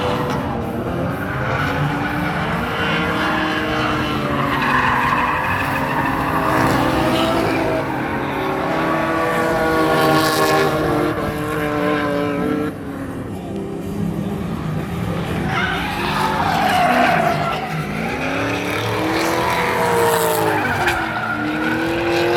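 Drift cars at a Kill Kare drifting event, one a gray Nissan Silvia with a badly worn tire, skid and squeal loudly and continuously, engines roaring underneath with swells of tire scream throughout.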